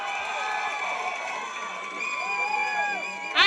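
A student crowd cheers and whoops at a film first-look launch event, sustained shouting and applause filling the room, swelling louder at the very end.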